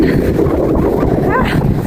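Gusty wind rushes over the microphone in a constant low roar, with a faint voice partly buried under it.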